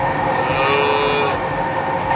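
Dairy cows on a milking farm in New Zealand mooing in a loud, sustained low bellow that fills the whole stretch, with steady barn noise beneath and no talking.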